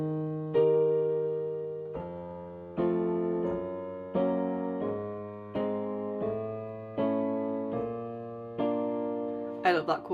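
Piano playing the chord progression of a song: eight or so sustained chords struck at a steady pace, each decaying before the next, clear and close.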